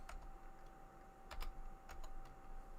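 Fast, quiet clicking of a computer keyboard while coding a HyperCard text adventure game, uneven bursts of light keystrokes with a few sharper taps, close and faint against a steady hum.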